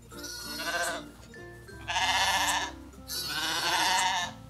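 Newborn black-and-white lamb bleating three times in close succession, loud wavering cries up close with short pauses between them.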